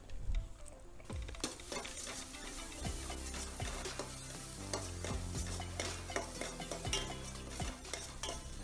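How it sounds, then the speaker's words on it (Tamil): Onion, garlic and green chillies sautéing in a pan for fish curry give a steady sizzle under repeated clinks and scrapes of a spoon stirring, close and even, with no talking. "இது கூட 2 பச்சை மிளகாய் சேர்த்து வதக்கிக்கலாம்."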